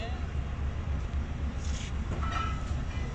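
A Chaman passenger train pulls out of Quetta railway station with a continuous low rolling rumble of the cars. Faint voices sit in the background.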